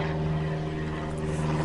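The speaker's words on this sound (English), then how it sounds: "Airplanes, airplanes, airplanes." Aircraft engine droning steadily near a runway, a continuous loud hum with strong low tones and no voices.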